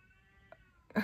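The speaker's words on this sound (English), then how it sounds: "Sorry about the neighbor's cats." Neighbor's cats meowing outdoors, a sustained tonal cry with a brief chirp midway, then a sudden loud burst at the end; no talking.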